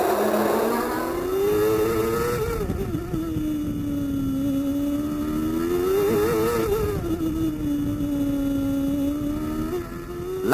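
A 1994 Formula 1 race car, trailed by others, screams around the track, its high-pitched engine note rising and falling through gear changes and corners, loud and continuous without commentary.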